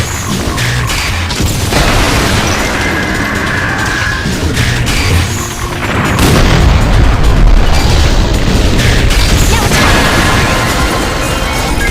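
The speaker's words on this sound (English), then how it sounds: "Enemy missile closing in." Booming explosions of enemy missiles in the Nintendo DS game Liberation Maiden, loud deep blasts and crashes layered over a constant dense rumble, stacking one after another.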